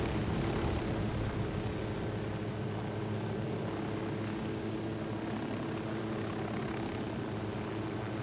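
A helicopter in the video game Ghost Recon Wildlands gives off a steady, loud rotor and engine drone that holds evenly throughout with no speech.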